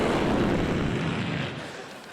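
A low-flying airplane passing overhead near a house, a loud, broad engine roar that holds steady and then begins to fade as it moves away, no voices.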